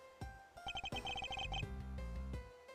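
A phone ringtone plays a repeated electronic chirping pattern in quick bursts, loud and close, then gives way to a low rumbling tone.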